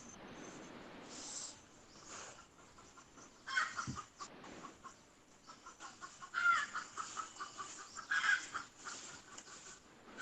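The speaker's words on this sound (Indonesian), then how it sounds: "Ayam siapa tuh?" Chickens cluck and squawk in short irregular bursts, fairly faint and somewhat distant, with a quiet background.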